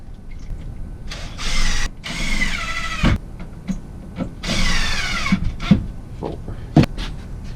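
MaxxFan Deluxe roof vent lid opening on its electric motor, a steady whirring drive hum that runs in two main stretches with brief pauses and small clicks between them, fairly close and heard alone.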